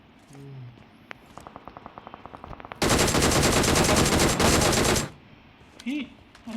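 Automatic gunfire in the mobile shooter BGMI, a dense loud burst lasting about two seconds after a string of single rapid shots, with talk before and after.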